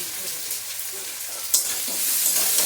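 Malabar spinach stems and jackfruit seeds frying in a pan, a steady close sizzle with a sharp stirring scrape midway and the hiss swelling louder afterward.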